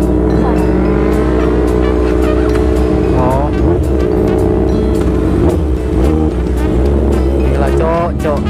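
A 600cc motorcycle engine runs loud and close, revving up and down with rising and falling pitch, while people talk in the background.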